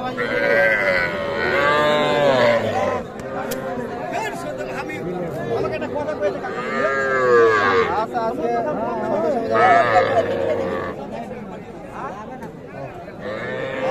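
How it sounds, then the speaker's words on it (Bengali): Calves and young bulls and heifers at a busy cattle market, the animals' lowing mixed into steady crowd chatter and nearby talk throughout. "দেখছেন এগুলো সবগুলো কিন্তু বাছুর"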